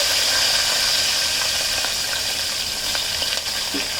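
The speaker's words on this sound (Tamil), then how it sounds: "எல்லாத்தையும் சேர்த்து கொஞ்சம் நல்லா வதக்கணும்." Green chillies and peeled garlic sizzle steadily in a hot pan for brinjal thokku, a dense continuous frying hiss with a few faint stirring clicks near the end, close and fairly loud with no talk.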